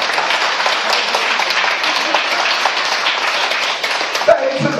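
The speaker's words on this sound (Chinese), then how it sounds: "要不要给他掌声呢" An audience claps loudly and steadily at an indoor gathering honoring a guest, dense continuous applause that breaks off abruptly near the end.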